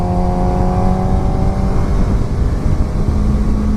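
A 2016 Suzuki GSX-R600 sport motorcycle accelerating hard, a loud sustained engine drone with a steady rising whine, heard close with wind rush and no talking.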